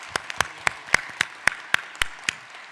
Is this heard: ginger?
no